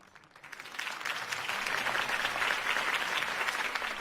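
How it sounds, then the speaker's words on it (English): Crowd applause after a campaign speech in Batman: The Telltale Series, swelling in from quiet to a sustained, dense clapping that holds steady at moderate distance. "could have heard that applause"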